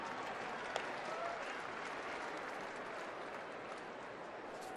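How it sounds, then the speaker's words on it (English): Steady crowd noise fills the stands at a night baseball game, the San Francisco Giants visiting Arizona, a broad continuous wash of applause and murmur at moderate level with no clear speech on top. "Another big crowd on hand here tonight."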